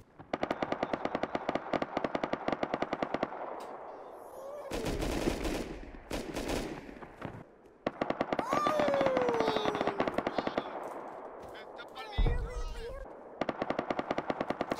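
Rapid automatic gunfire in the survival game Rust sounds in long loud bursts of sharp shots, broken by short pauses, explosive blasts and fleeting noises, with a voice shouting briefly near the middle.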